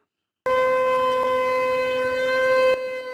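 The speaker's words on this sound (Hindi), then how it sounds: "ये पाकिस्तान का सायरन बज रहा है" A loud, steady air raid siren wails with a sustained harmonic tone, starting abruptly and holding before cutting off and fading.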